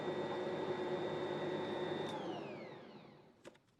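An electric hand mixer beating pumpkin bread batter, a loud steady whine that winds down as the motor is switched off, followed by a light tap.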